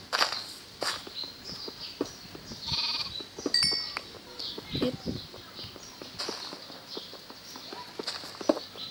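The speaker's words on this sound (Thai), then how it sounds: "น่าจะเป็นแกะนะ" Sheep bleating in Minecraft Pocket Edition 0.14.3, heard as short bleats mixed with footsteps and other game sound effects, fairly faint and with no talking.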